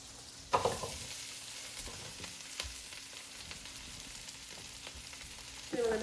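Vegetables frying in butter and oil in a pan, a quiet steady sizzle with a few clattering stirs and scrapes, including a louder clunk near the start and another near the end.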